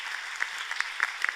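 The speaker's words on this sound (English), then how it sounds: "let's all give a hand of applause to our colleagues" Brief audience applause at a plenary session on accountability for action, a soft, short patter of claps from the room that lasts only a moment.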